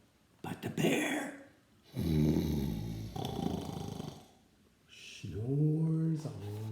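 A voice imitates a bear snoring, with rough, drawn-out snores repeated in a slow rhythm, fairly close and loud with short pauses between them.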